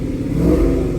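A cammed 5.3 GMC Sierra V8 truck engine with equal-length longtube headers and no exhaust leaks, heard as a loud, steady, deep rev held close for about a second with no talk.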